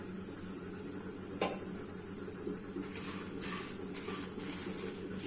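Onion goes into hot oil in a pan, sizzling steadily with the scrape and clink of a spoon stirring against the pot, no talk over it.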